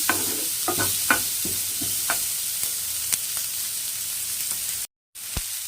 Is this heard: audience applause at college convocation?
no